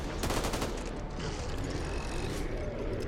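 Dense, continuous gunfire in the video game Back 4 Blood, with rapid overlapping shots filling the scene at constant loudness and faint speech mixed underneath.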